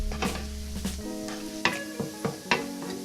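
Bacon and leeks sizzle in a hot pan, a steady frying crackle with a few sharper clinks and scrapes of stirring scattered through, close and moderately loud with no talking.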